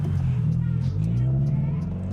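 A car fitted with a Spec D Tuning aftermarket exhaust rumbles at idle, a deep, steady low drone close by with slight pulsing.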